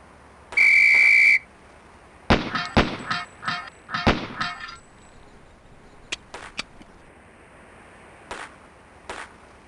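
A single sustained referee-style whistle blast opens a pistol drill against five steel pepper poppers in a SWAT police game, followed by a rapid string of sharp gunshots and metallic clangs, then a few sparse later shots.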